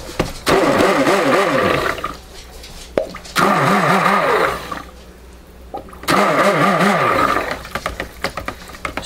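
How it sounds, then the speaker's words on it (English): A stick blender mixes soap batter for a watermelon taffy soap, running in three loud motor bursts with a wavering, whining pitch separated by short pauses, close up and without speech. "Just using my stick blender here to finish this process."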